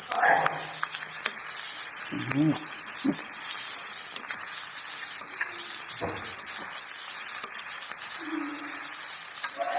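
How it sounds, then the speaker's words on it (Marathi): Chopped onions fry in a little oil in a pan while a crisp savoury jowar puffs snack is made. A steady, bright sizzling hiss runs throughout, close and even, with a few faint clinks and murmurs underneath. "थोडं तेल टाकते आणि कांदे तळायला"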